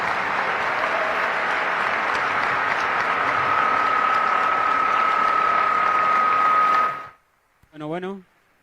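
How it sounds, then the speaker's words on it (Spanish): A large conference audience applauds loudly and steadily for a lecturer at an education talk, a dense wash of clapping that stops abruptly, followed by a brief sustained tone and a short voice. "Fuerte ese aplauso para el doctor."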